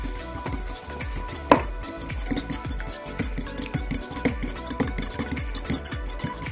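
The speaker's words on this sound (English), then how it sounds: "Give these a whisk up." Two eggs being whisked in a bowl, giving a quick, steady run of close clicking taps against the sides, with one sharper clink partway through.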